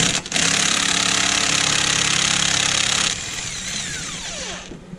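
Power tool, likely an impact wrench, loosening a 22 millimeter swing arm bolt on an X3, a loud steady mechanical whir for about three seconds, then a lower winding-down whine that fades out.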